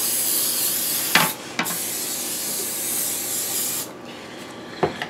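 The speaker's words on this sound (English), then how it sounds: "give them a spritz and spray with the old non-stick cooking spray here" Three short bursts of non-stick cooking spray hiss, the first two close together and the last after a pause, over a steady background hiss.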